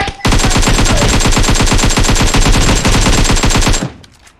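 A robot enemy in a video game fires a rapid, loud burst of automatic gunfire that runs for several seconds and then cuts off, leaving a short tail of sparse shots.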